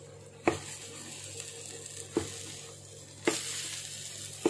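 Fresh bird's eye chilies and egg fry in a pan for a Thai omelette, giving a steady, fairly quiet sizzle broken by four sharp clatters.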